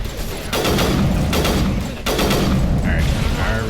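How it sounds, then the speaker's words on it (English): Sustained bursts of rapid gunfire in the Mass Effect video game, loud and dense, with a brief lull before another volley and a voice talking over it. "I can already hear the shooting."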